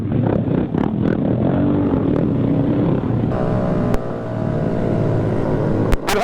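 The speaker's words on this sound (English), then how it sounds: "All I hear is fucking exhaust pipe" Honda Grom motorcycle exhaust while riding, a steady buzzing drone with wind rush, loud and close throughout, with a couple of brief clicks.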